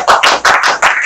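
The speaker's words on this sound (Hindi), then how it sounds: "ताली बजाओ तेजी से" Students clap quickly in a classroom, three brisk, sharp bursts of hand claps in steady rhythm, loud and close.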